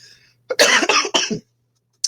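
A short burst of harsh coughs, close and fairly loud, followed by a brief faint sound after a pause; no talking.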